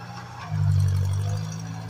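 A 1953 Ford Jubilee tractor, a three-plow machine of about 27 horsepower, clearing a driveway, rumbles in a low, steady drone that swells about halfway through, then eases back slightly.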